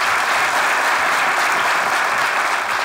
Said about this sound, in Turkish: Atakan'la Cemile'ye büyük bir alkış.